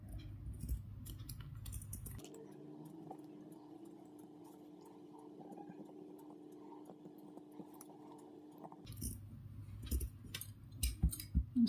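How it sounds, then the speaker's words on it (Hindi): Scissors snip through cloth in a curved, round cut for a small Laddu Gopal deity dress. Crisp bursts of cutting come at the start and again near the end, with a quieter steady hum between and no talking. "अब हम ये गोलाई में काट लेंगे।"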